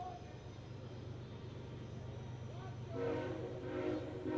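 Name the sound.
train rolling by near a baseball stadium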